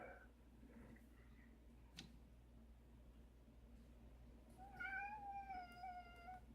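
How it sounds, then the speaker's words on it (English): A house cat meows near the end, a clear drawn-out call after a stretch of quiet room hum with a single faint click earlier. "And yes, that's my cat."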